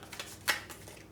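Playing cards from the Aeon's End deck-building card game being shuffled, a single quick riffle burst in the middle of an otherwise quiet moment, close and brief.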